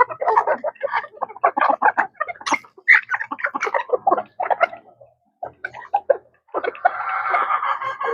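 Native bantam chickens cluck and chatter in a rapid, busy series of short calls close by, with a brief pause before another bird's louder, harsher call rises at the end.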